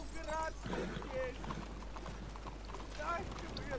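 Horse hooves clip-clop in a Wild West role-play video game, a light patter running beneath voices that talk throughout.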